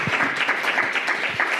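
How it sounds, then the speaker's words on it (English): Audience applause at a community talk session in Albuquerque, a dense steady clatter of many hands at close range with a faint voice breaking through near the end. "Let's give a round of applause."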